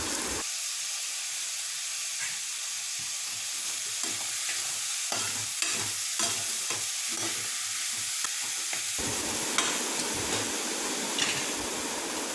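Curry leaves sizzle and spit as they are fried and stirred in a pot while making mutton bone soup; a steady hiss with scraping stir strokes, close and loud, continuing throughout without talk.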